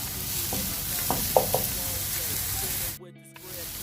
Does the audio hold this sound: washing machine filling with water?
no